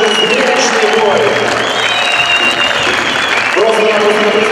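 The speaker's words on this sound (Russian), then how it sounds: "Еще раз аплодисменты бойцам" Crowd applause for fighters at a fight event, loud dense clapping and cheering from a large audience, with a voice carrying over the noise.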